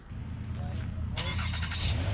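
A car engine turns over by remote start and starts, then idles with a low rumble, nearby and moderately loud.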